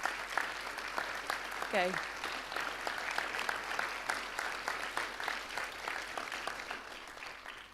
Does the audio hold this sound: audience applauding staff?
yes